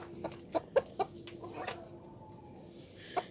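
A black hen gives several short, sharp clucks close by, spaced irregularly, with a soft low murmur of clucking between them.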